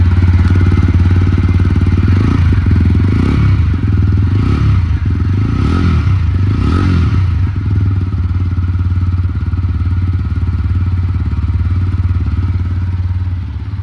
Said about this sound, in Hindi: तो ऐसा था कुछ इसका एग्जॉस्ट नोट